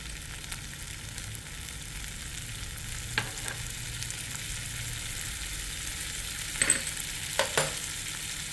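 Ground chillies, mustard seeds, cumin and ginger sizzle in hot oil for corn in yogurt gravy, a constant crackling fry with a few sharp stirring scrapes near the end.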